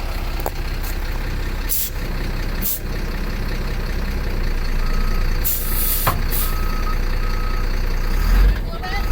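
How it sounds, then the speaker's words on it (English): A bus's air parking brake releases and the vehicle begins reversing; steady truck-like engine rumble runs throughout, with sharp air-brake hiss bursts and periodic reversing beeps, all close and fairly loud. "So I'm gonna hit that, release the parking brake."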